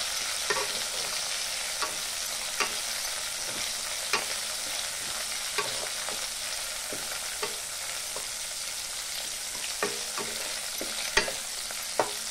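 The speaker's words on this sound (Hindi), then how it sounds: "तो अच्छे से मिला के 1 मिनट के लिए गैस के फ्लेम को लो फ्लेम में रखकर इसको थोड़ा सा पकने देंगे" Capsicum stirred in a hot pan on a low gas flame while making chili paneer: a steady sizzle of frying underlies repeated sharp scraping clicks of a spatula at an irregular pace, close and alone without talk.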